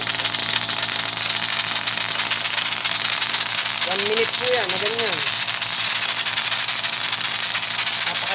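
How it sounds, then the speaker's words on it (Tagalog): A fully automatic foaming machine sprays soap foam with a strong, continuous hiss at close range, while someone talks over it. "Napakalakas po ng bugan. Layo na abot."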